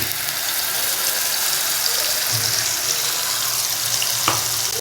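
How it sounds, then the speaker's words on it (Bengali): Onion paste fries in oil left from frying fish and vegetables, a dense, loud, continuous sizzle close up with a faint clink near the end and no talking. "এবার এই সবজি ভাজা ওই মাছ ভাজা তেলের মধ্যে আমি দিয়ে দিচ্ছি পেঁয়াজ বাটা"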